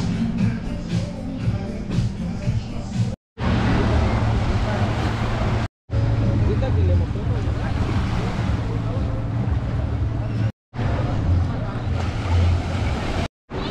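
Surf washes steadily onto the beach at Playa Mamitas in Playa del Carmen on a hot, busy day, with heavy wind buffeting the microphone, someone talking over it, and several abrupt silent cuts.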